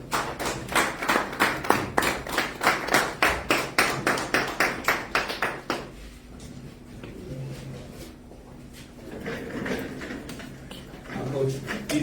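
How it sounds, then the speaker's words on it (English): A brisk run of evenly spaced claps, sounding like only a few people, greets the new Mamelodi Sundowns head coach at a press conference. It lasts about five seconds before giving way to a quiet room and then talk. "Can we please give him a round of applause?"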